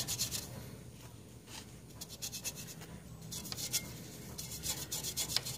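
Rust is rubbed off a chrome motorcycle exhaust by hand, giving soft repeated scrubbing strokes in quick bursts, faint and close with no speech.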